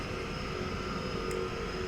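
A Bandeirante propeller plane in Microsoft Flight Simulator, parked at the gate at Chicago Midway, idles with a steady, loud engine drone and tonal whine running unbroken and close throughout.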